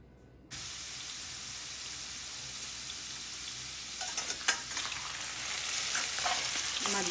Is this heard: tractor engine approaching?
no